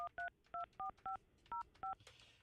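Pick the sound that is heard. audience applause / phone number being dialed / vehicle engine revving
phone number being dialed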